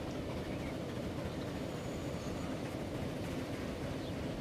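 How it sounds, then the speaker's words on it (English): A train rolling past in the video game Transport Fever, a steady rumbling drone at moderate distance with no distinct clacks and no talk. "There's the other train coming back."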